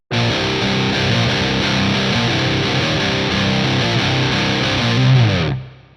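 An intro riff on heavily distorted electric guitar, a dense continuous wall of crunchy tone for about five seconds before cutting off, loud and close with no voices.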